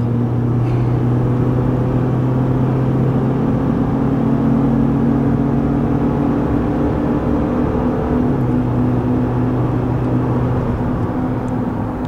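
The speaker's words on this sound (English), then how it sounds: "Now we're going to go on the highway. You guys can kind of see the acceleration." A 2023 Chevy Silverado 1500 with a 2.7L four-cylinder engine accelerates onto a highway while towing about 9,000 pounds, a steady close engine drone and road rumble holding for the whole stretch with no talking.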